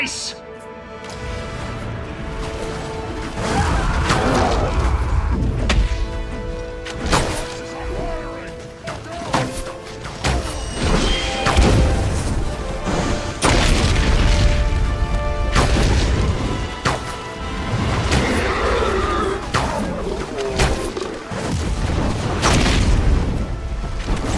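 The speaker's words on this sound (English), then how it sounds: "Saruman's fire machine spews flames of death!" Saruman's fire machine spewing flames in the Lord of the Rings: Conquest video game, heard as repeated loud booms and roaring blasts amid battle noise across the whole stretch, with voices talking over it.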